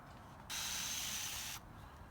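One short burst of fine spray from a spray bottle of tanning solution, hissing for about a second, close by, against a quiet background.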